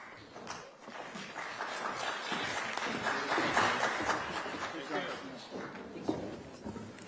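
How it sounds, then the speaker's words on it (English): An audience at a policy forum on US–Taiwan relations gives a round of applause, dense clapping that swells in the middle and then tapers off, filling the room. "Let's give them another round of applause."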